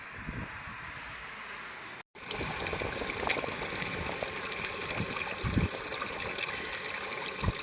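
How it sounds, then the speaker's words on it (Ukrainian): Drilling fluid drains from a newly drilled water well borehole, a steady pouring trickle of liquid that runs continuously at moderate distance, briefly cutting out before resuming. "зливає буровий розчин і будуть промивати чистою водою"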